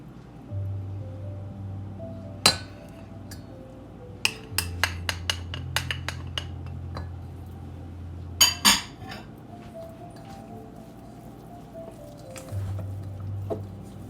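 Tuna patty mixture being stirred with raw egg in a bowl, with a scattered run of sharp clinks and taps of a utensil against the bowl and soft wet squishing, close and fairly quiet over a low background hum.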